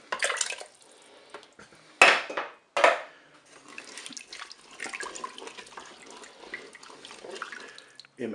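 Liquid poured into a Cookeo pressure cooker pot, white wine and water splashing with clinks of a glass and utensils against the pot, close and fairly loud, in short bursts followed by softer trickling and stirring.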